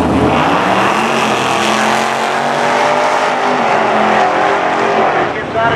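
A race car on sticky Hoosier rear tires runs hard at Irwindale against a Corvette C8, its engine roaring loud and steady close by, with brief tire scrub as the car gets out of shape.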